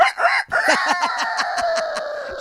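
A rooster crows loudly and close by, a long rising-and-falling call with clucking fowl sounds around it, heard alone without talk.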